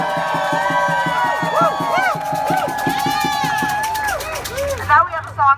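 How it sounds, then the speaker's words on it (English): A protest crowd outside Breitbart cheers and whoops loudly and continuously, with shouts and voices layered over a steady din that swells into sharper yells near the end. "I want to hear an actual cheer"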